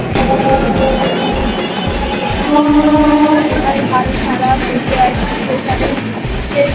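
Busy railway station platform at night in the rain, with a train passing or arriving: loud continuous rumble and clatter throughout, a brief horn-like tone midway, crowd murmur underneath.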